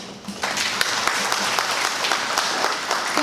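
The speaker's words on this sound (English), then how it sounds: "Let's give a round of applause to our parent leaders who are here today as well." Sustained applause from an indoor audience at a parent leadership ceremony, dense steady clapping lasting throughout at close range without any talk.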